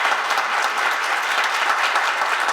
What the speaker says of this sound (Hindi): आइए ज़ोरदार तालियों से खुदावंद का जलाल करें।